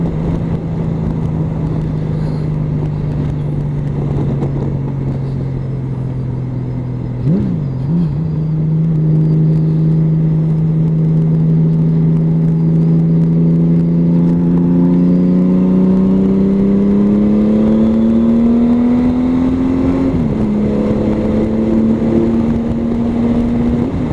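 A Honda Valkyrie motorcycle, just back from major repairs, cruises at about 85 mph and 3,500 rpm. Its engine gives a steady, close drone that climbs gently in pitch as it speeds up, with no talk over it.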